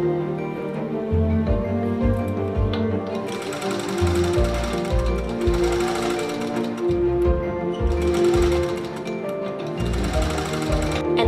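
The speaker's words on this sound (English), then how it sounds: "then sew that by machine" A sewing machine stitches the edge of a chemise between lace and fabric, running in a fast rhythmic chatter with several start-and-stop bursts, close and loud with no speech.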